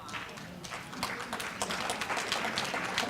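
Faint, scattered applause from an audience at a 2019 State of the City address, a light rolling patter of claps that builds slightly over a few seconds.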